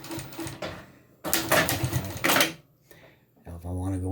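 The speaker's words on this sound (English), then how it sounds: "I continue to sew." A Bridgesew 640-D3 industrial sewing machine stitches in two short bursts of fast, rattling needle chatter, stopping between runs, followed by someone speaking.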